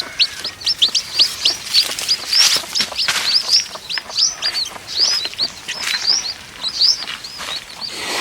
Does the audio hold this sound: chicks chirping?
yes